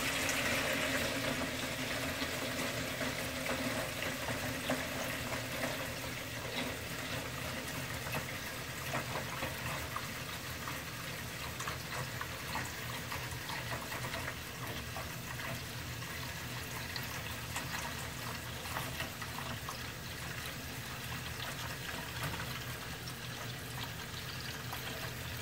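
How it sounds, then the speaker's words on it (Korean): Tap water runs steadily into a wide basin in a kitchen, a continuous even rush and splash at moderate level for the whole stretch, with no voices. "함지박에 물을 받습니다."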